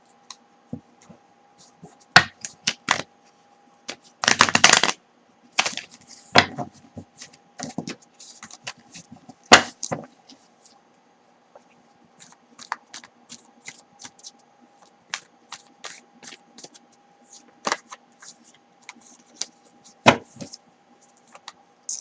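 Tarot cards shuffled and handled slowly, with scattered crisp snaps and taps spread across a quiet stretch, one busier flurry partway through.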